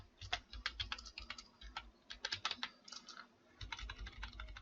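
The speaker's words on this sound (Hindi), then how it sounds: "यहाँ पर मैं कुछ भी टाइप कर देता हूँ" Rapid, steady typing on a computer keyboard clatters with uneven bursts of keystrokes and short pauses, close and alone with no talking.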